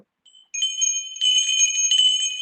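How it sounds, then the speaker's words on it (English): Small spiritual bells, silver and gold, jingle in a bright sustained ring, starting with a faint tinkle and then ringing steadily and close. "And I have bells."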